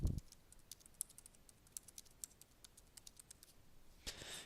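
Someone types on a computer keyboard, producing a quiet, steady run of light keystrokes close by, with a couple of louder knocks at the start and end.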